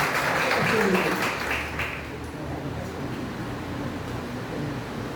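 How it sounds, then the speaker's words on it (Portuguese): Congregation at a church Bible study applauding, a broad wash of clapping that swells in the first two seconds and then fades into a softer, lingering patter. "Aplauda Jesus."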